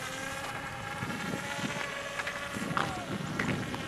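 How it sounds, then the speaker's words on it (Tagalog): A boat engine runs steadily as a continuous low rumble with wind buffeting the microphone, while people talk over it. "Patay mo na makina."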